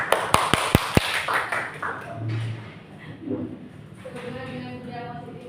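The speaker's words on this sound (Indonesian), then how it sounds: "Tepuk tangan bersama." A group applauds together at a school meeting on positive school culture, with a few sharp claps up front followed by quieter scattered clapping and murmuring voices.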